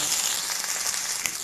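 Steady crackling sizzle of onion frying in hot oil in a pan, a dense hiss close by with occasional sharper pops.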